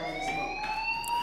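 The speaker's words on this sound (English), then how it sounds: "do you hear that fire alarm? That means you should be outside." A fire alarm rings in the video game Life Is Strange, a steady shrill electronic tone with a faintly rising pitch and regular pulsing, loud and continuous with no talking.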